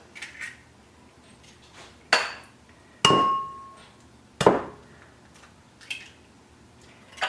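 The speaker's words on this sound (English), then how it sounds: "I'm going to take my eggs and I'm going to crack them into the bowl" Eggs being cracked on the rim of a bowl, several sharp, separate hard taps with short ringing tails, spaced about a second apart in a quiet kitchen.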